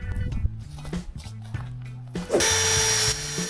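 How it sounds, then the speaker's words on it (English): Power drill pre-drilling and driving lag screws into wood during a tiny house window installation, with a steady whirring run in bursts that builds to a loud, sustained high-pitched spin near the end. "I pre-drilled and installed all the remaining lag screws."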